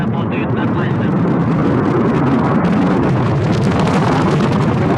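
Soyuz rocket booster engines roar during launch, a loud, dense, unbroken rumble that holds steady throughout, with a voice talking over the noise.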